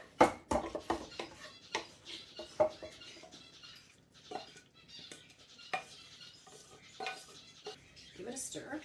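Baked beans in barbecue sauce being stirred in a crockpot, with irregular spoon clinks and knocks against the pot and soft wet squelching in between, close and fairly quiet, without talking.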